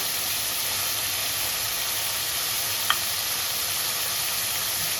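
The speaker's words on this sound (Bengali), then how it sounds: "তেল মাছটা দেওয়ার সঙ্গে সঙ্গে আমি নেড়ে নেবো" Prawns fry in hot oil in a wok while being stirred, giving a loud, steady sizzling hiss throughout with a single brief tap of a utensil midway.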